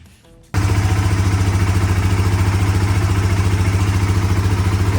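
A Polaris ACE engine, running again after a new fuel pump, starts abruptly after a moment of quiet and then idles loudly with a steady, even, rapid thrumming pulse.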